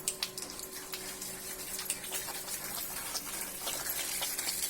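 Water sprays steadily while a washing machine is being cleaned, a soft continuous hiss with small splashy bursts over a faint hum.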